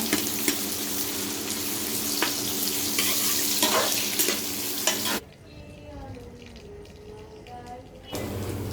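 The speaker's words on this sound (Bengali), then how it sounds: "পেঁয়াজ ভাজা প্রায় আমার শেষের দিকে" Onions sizzle loudly in a hot pan while duck curry is being cooked, then the sound drops away abruptly for a few seconds before the frying returns.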